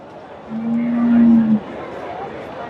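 A Friesian-Sahiwal cross dairy cow at a cattle market in Bogura moos once, a loud steady low call lasting about a second, set against the busy murmur of the market crowd.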